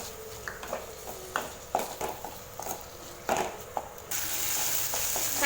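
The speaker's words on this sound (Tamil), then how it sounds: "தக்காளி பார்த்திங்கன்னா நல்லா வதங்கிருச்சு" Tomatoes sautéing with ginger garlic in a pan give a low sizzle broken by repeated spatula knocks and scrapes against the pan, then a louder steady hiss near the end.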